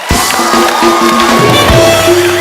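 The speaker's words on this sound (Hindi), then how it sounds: "बाबा जी के लिए जोरदार तालियां हो जाएं" A studio audience on The Kapil Sharma Show cheers and applauds Baba Ramdev, a loud, dense crowd roar with shouts running steadily throughout, close and full.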